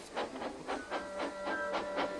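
Thomas the Tank Engine, a small steam locomotive, chuffs as he starts off, giving about eight evenly spaced steam puffs that quicken slightly, with a faint whistle-like tone in the background.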